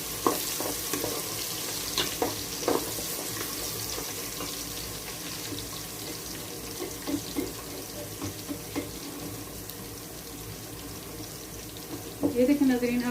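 Garlic sizzling in hot oil for a goat trotters (paya) curry, with a steady frying hiss, scattered stirring scrapes and clinks, and a louder clatter near the end.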